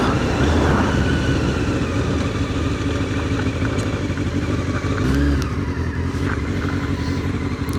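A Honda CBR 600 F4 motorcycle rumbles steadily at low speed, close and loud, as it pulls into a gravel lay-by and turns around, with the engine note dipping and rising briefly midway.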